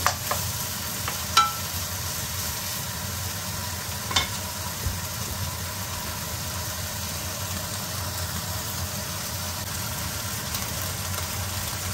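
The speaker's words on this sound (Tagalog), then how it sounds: "Medyo iprito-prito lang natin ang konti yung bacon." Bacon frying with chopped onion in a pan, a faint steady sizzle with occasional stirring clicks and scrapes, heard alone at low level.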